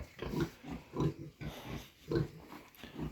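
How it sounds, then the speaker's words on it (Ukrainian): Pigs grunt repeatedly at close range in short, rhythmic bursts, with brief pauses between the low snorting calls. "От у нас свині"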